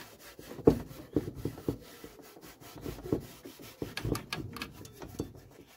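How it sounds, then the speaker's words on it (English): Cloth soaked in panel wipe rubbed over a Briggs engine on a Westwood Lawn Bug to degrease it, giving close, irregular scrubbing and rasping strokes with soft knocks, fairly quiet and without talk. "We just give this whole thing a rub over."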